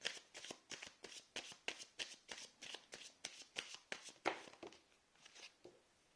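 Tarot cards being shuffled in quick, even riffles, about a dozen crisp bursts in steady rhythm, close and moderately loud, easing off at the end as a single card is drawn.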